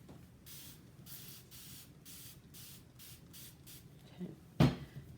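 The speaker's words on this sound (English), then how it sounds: "And I'm gonna give it a mist" Several short hissing bursts from a hand spray bottle mist freshly sown seed containers in an even rhythm, followed by a soft knock near the end.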